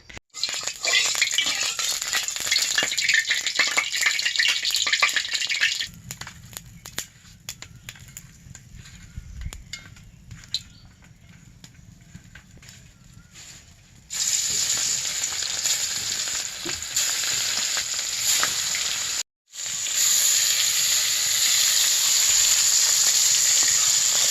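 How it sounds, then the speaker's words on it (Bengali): Fish frying in hot oil on a fire while a green-mango fish dish is being cooked, a loud steady sizzle that drops to a low, quieter crackle midway, then surges back to full sizzling with a brief gap. "আমি এখন জাল ধরিয়ে মাছগুলো ভেজে নেব"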